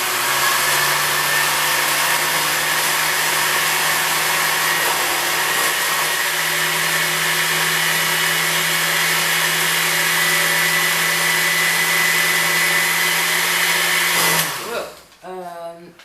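A blender on its shred setting grinds sugar into powdered sugar, giving a loud, steady high-pitched whir that runs nearly continuously before shutting off near the end.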